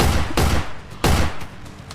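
Two heavy, booming gunshots ring out roughly half a second apart in a crime documentary reenactment, loud and close with a long rumbling decay after each blast.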